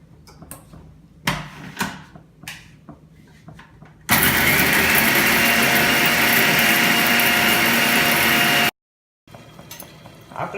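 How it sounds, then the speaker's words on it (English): An electric grinder grinds dry-roasted spices for kadhai paneer, giving a loud steady whir of about four and a half seconds that cuts off abruptly, with scattered handling clicks and knocks before and after. "We have to grind them."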